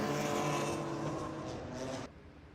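Race cars at Road Atlanta roaring loudly past at full throttle, a dense engine blare that holds for two seconds and then drops away to a distant hum.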